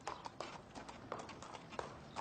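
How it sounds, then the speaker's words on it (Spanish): Horse-drawn cart with hooves clip-clopping in a steady, brisk rhythm of repeated sharp knocks, moderately close, heard alone without talk. "Viajó con un carro tirado por un caballo"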